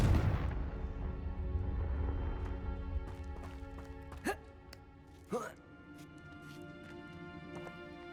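A Confringo explosion spell in Hogwarts Legacy, a heavy boom at the start fading into a rumble, followed by a couple of sharp impact cracks over low game ambience.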